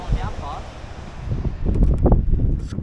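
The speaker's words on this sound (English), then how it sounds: "It's a little bit windy" Wind buffeting a boat out at sea on a fishing trip, steady gusty rumble against the microphone with a brief voice early on and stronger gusts toward the end.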